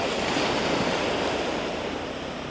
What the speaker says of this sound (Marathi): हा आमचा सागर हा आमचा मालवणचा किनारा